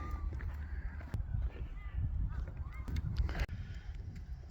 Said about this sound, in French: Comme des oies blanches de l'autre côté.